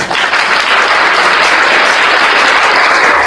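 Loud, sustained applause fills a church gathering, many hands clapping together in a dense, continuous wash with no break.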